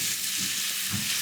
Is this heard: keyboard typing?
no